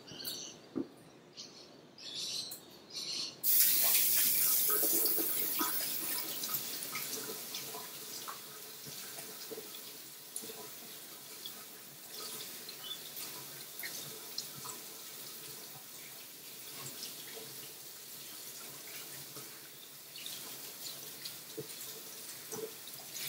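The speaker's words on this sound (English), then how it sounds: "I'll just give my hands a wash" Tap water runs into a sink as hands are washed, starting with a sudden loud gush that settles into a steady, moderately close stream with splashes, birds chirping faintly in the background.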